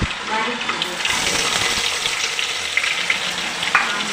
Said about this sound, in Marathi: आता कांदा चांगला परतू दे थोडासा लालसर होऊ दे